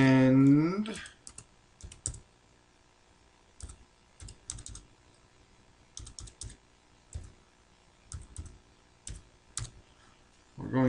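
Bursts of computer keyboard typing as card details are entered, quick clusters of clicks separated by pauses, close and fairly quiet, with a brief voice at the start and end.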